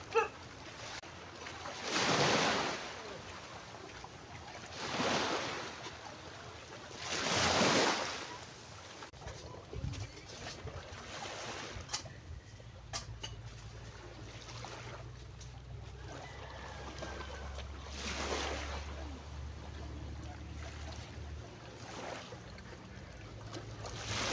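Strong sea waves surge and break in three big rolling swells near the shore at a beach by Lopez, Quezon Province, then a quieter wash of surf continues under a low steady rumble.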